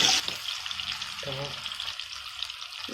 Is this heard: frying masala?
yes